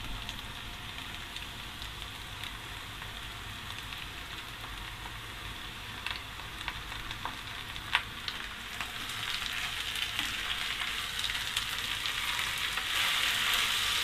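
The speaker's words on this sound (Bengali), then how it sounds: "ক্যাপসিকামগুলোকে একটু নেড়ে চেড়ে নিলাম" Capsicum stir-frying in a pan for chow mein, with a steady close sizzle and hiss throughout and a few light scrapes of stirring, growing slightly louder toward the end.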